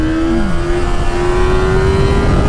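A 2005 Yamaha FZ6 600cc motorcycle engine revs hard during a wheelie, a loud, close, sustained rising whine as the revs climb, with no talk.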